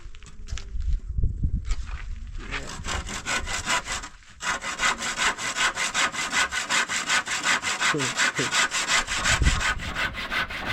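A hand saw cuts through wood in steady, fast back-and-forth strokes, close up. Softer shuffling and rubbing come before the strokes take over.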